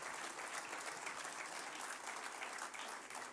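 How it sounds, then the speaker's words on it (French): Audience applauding at a political rally, a dense, continuous patter of clapping from a crowd throughout, fairly distant and even in level. "Je pense qu'on peut les applaudir."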